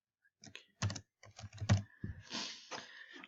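Keys tapped on a computer keyboard while entering student names into a data analysis spreadsheet, a quiet, close run of irregular clicks in short bursts with no voices.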